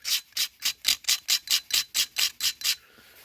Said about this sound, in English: And then scraping it round, scrape all the crap off.